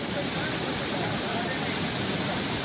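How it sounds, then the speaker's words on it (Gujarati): Monsoon floodwater roars over the Ojat river waterfall in Kutch, a loud, unbroken close-up rush of water with no pauses. "પાણી એટલું વહે કે અહીંયા ઊભા પણ દેતું નથી."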